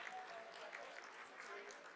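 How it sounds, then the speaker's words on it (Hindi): Brief applause rises from staff in the mission control room during the Chandrayaan-3 soft-landing descent, a soft, steady spatter of clapping lasting a couple of seconds at low level. "Lot of applause indicates that till now the performance has been nominal."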